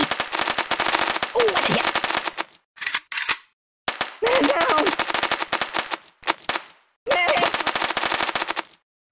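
Rapid, sustained machine-gun fire at a shooting range in the Kick The Buddy video game, loud and dense, broken by short pauses and brief clanks, with a faint voice or whimper mixed in.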